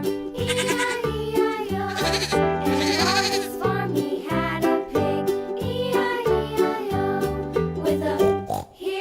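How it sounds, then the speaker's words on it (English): Goat bleats set to the melody of a children's farm-animal nursery rhyme, a loud stylized tone with repeated wavering notes over a musical backing. "Goat."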